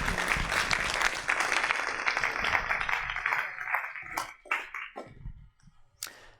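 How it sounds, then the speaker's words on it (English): A live audience applauds as a volunteer is called to the stage: dense clapping for about four seconds, then thinning to scattered claps. "please give this lady a thunderous round of applause."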